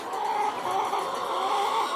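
A Peruvidai (kathikal) game hen clucks steadily and close by, her soft, continuous calls running through the whole stretch with no talk over them.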